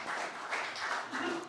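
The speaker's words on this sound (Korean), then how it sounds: "박수 한번 하시죠" A congregation claps during a Sunday church service to welcome a member, with steady, moderate applause in a room that fills the whole short moment.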